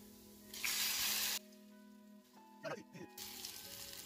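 French toast bread sizzling in a hot pan, a loud hiss for about a second then a softer frying sound, with a faint voice and small clatters in between.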